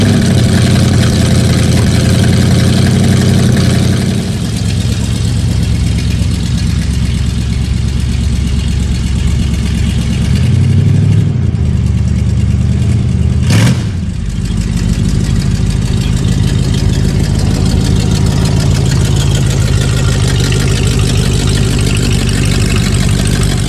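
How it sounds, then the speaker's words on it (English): A steady, loud rumble from the conventional 427 V8 of the Chevy Astro II mid-engine Corvette concept car, a counter-rotating motor idling close by, with a brief dip and a short blip around the middle and no talk. "This one had a conventional 427 V8, and it was a counter-rotating motor."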